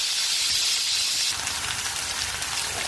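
Eggplant and potato drop into sautéed onions for sambar and set off a loud, steady hissing sizzle close by, which shifts and thickens partway through, with no voices.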